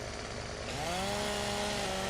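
A video game chainsaw in Farming Simulator 17 buzzes steadily while cutting trees, then its pitch rises and holds as the engine revs up, with no voices.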